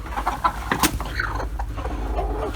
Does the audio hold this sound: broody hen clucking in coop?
yes